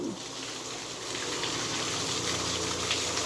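Water gushes steadily over a cow's head during a bath on a dairy farm, a loud, continuous splashing rush close by with no speech.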